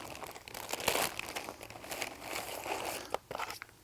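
Bag of small parts and fasteners being rummaged through during a package unboxing, with continuous close crinkling and rustling of packaging and a few sharper crunches, no talk.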